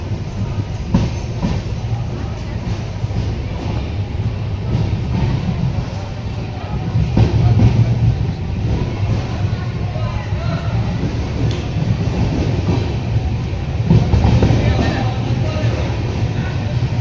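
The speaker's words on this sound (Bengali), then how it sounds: "হারপালপুর থেকে ট্রেন ছাড়লো" Aboard the Chambal Express pulling out of Harpalpur station, a steady loud rumble of wheels and carriages rolls on with rhythmic clatter and occasional heavier swells, voices talking over the noise.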